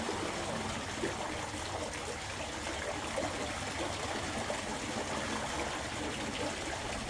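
Water dribbles and trickles steadily from a DC pump line on a farm, a continuous close, soft splashing with no pauses and no talk over it.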